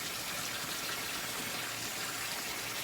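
Hot water pours and splashes steadily while a jar is being cleaned, a continuous close rushing gush with no pauses and no talking.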